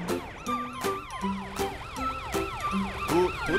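A police siren wails in rapid repeating sweeps, loud and close, with a low vehicle rumble beneath.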